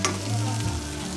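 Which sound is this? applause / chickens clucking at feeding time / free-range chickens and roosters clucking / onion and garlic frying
onion and garlic frying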